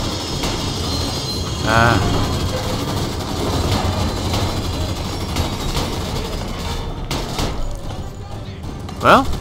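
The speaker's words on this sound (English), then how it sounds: "Here's the train!" A train in the World War II shooter game Raid WW2 rumbles past with a steady heavy low roar and rattling wagons, loud throughout, with a brief swell near the start and scattered gunfire-like bursts toward the end.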